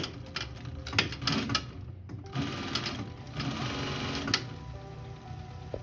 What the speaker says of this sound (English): we're going to top stitch at 3/4 of an inch.